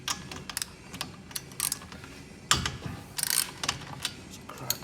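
A socket or spanner ratchet cracking 19 mm bolts loose on an actuator, heard as a series of close, sharp clicking bursts and metallic snaps in irregular clusters, with a louder crack midway.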